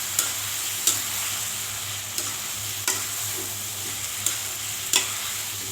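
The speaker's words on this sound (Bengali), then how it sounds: "ভালোভাবে মাংসের সাথে মশলার সাথে মিশিয়ে নেব।" Chicken pieces cooking with spices in a pan, a loud continuous sizzle punctuated by regular spoon scrapes roughly every second, close up with no voices.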